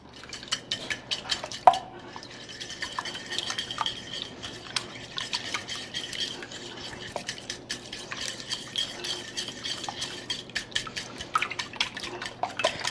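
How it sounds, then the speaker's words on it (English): A utensil stirs milk and eggs in a bowl with light, quick repeated clinks and scrapes against the bowl, faint and close, without any talking. "Going to stir that up."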